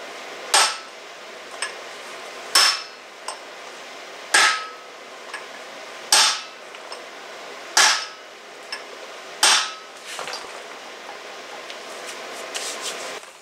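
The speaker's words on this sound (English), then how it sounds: "That it gets more solid and pingier, and that tells you the carrier is as far down the case as it can go." Hammer blows drive a Ford 8.8 differential carrier into its case, about seven sharp metallic strikes at a steady rhythm, each turning more solid and ringing, with lighter taps between them.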